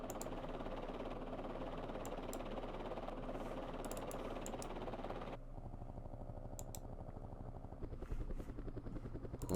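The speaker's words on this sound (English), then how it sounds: "because I have the helicopters and trucks selected, the helicopters are on top, so that's the sound that are being used" Helicopters in the Vietnam war strategy game Campaign Series Vietnam make a steady rotor thrum and whine that fills the clip with no talk, easing somewhat partway through and then picking up again near the end.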